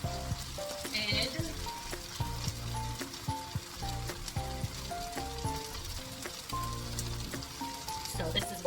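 Creamed spinach made with frozen spinach, heavy whipping cream and butter, cooking down in a pan with a soft, continuous sizzle and bubbling, plus faint clinks throughout.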